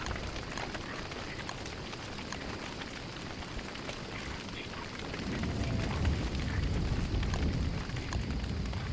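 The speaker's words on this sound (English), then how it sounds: "Oh god, I started a forest fire." A forest fire spreading in Don't Starve, a dense crackling roar that keeps up throughout and swells louder partway through.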